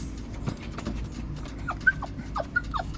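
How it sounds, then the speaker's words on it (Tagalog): Dudong, a young pet dog, whimpers and yips in short, faint, high-pitched bursts over a low, steady rumble of background noise. "Kasama pala natin yung aso kong maingay, si Dudong."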